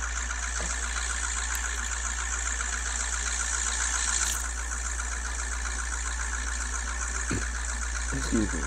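Rally car engine in the off-road video game Offroad Outlaws: a steady, droning engine hum held at an even pitch throughout, with a few faint knocks and clicks over it.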